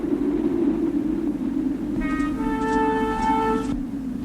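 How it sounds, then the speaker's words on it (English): Steady low rumble of a train on the tracks; partway through, a sustained multi-tone horn sounds for a couple of seconds, then cuts off. "The train's not far off now."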